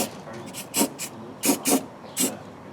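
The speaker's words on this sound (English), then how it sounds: "it's a great idea to hit that with some spray paint so it won't rust" Several short hissing bursts of spray paint onto a rivnut, irregularly spaced, fairly close, with quiet background in between.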